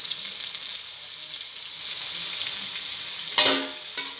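Vegetables fry in a pan with salt and turmeric, giving a steady, quiet sizzle with a couple of sharp stirring clinks near the end.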